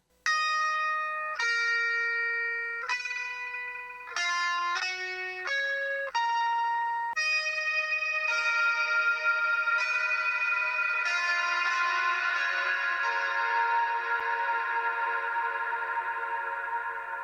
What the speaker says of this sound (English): So for this lead part, it sounds like this without any effects